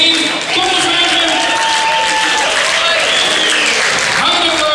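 Loud sustained audience applause at a carnival song contest prize announcement, dense clapping and crowd noise continuing steadily throughout.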